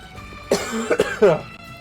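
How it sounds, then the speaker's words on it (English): Someone with a cold coughs several times in close, harsh bursts, with some throat clearing between them. "So if you hear any coughing, that's why."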